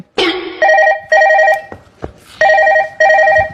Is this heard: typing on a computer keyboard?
no